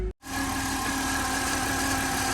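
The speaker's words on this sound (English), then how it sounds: "so I got the Jeep running." A 2008 Jeep Wrangler JKU engine idles steadily with a constant hum and rattle, after a brief click and dropout at the start.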